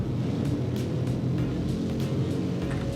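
A car engine in the Roblox game Southwest Florida revs steadily with a low, even rumble and throbbing hum, close and continuous with no talk over it.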